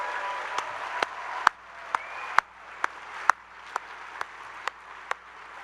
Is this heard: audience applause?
yes